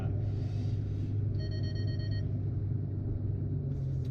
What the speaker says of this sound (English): That's the parking sensors, by the way, what's beeping.